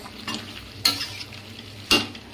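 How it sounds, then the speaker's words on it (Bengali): Meat sautéed with meat masala in a pan, with a low background sizzle broken by two sharp scraping clanks of a spatula against the pan and some softer stirring scrapes between them. "মিট মশলাটা দিয়ে দিলাম, এবারে কষাতে আর একটু কষিয়ে"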